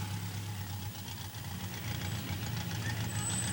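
An older rally car competing in the Rideau Lakes event runs with a steady, low, rumbling engine hum, fairly faint and distant. The rumble holds even throughout, with no talking.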